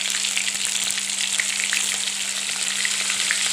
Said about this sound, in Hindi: यहाँ पे ये मैंने तेल कर लिया है गरम, और अब मैं इसमें डालने वाली हूँ ये हरी मिर्च हैं